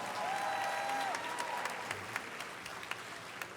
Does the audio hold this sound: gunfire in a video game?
no